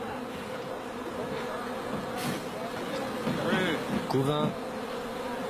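A honey bee colony buzzes steadily throughout, a dense close hum that continues beneath someone speaking French, which grows louder near the end.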